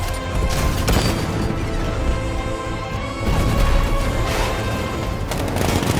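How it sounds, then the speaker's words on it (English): In Batman: Arkham Knight, an unmanned tank's 60mm cannon fires loud booming blasts with crashing impacts over a dense rumbling game soundscape, a sharp hit near three seconds and another burst after, with no talk. ".60mm cannon operational."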